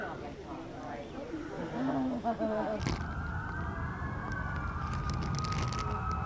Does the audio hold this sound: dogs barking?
no